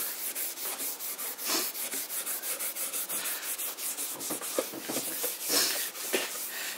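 An antique painted cabinet being rubbed with fine 000 steel wool during paint stripping gives rapid, rhythmic scratchy strokes, about three or four per second, close and clear with no speech.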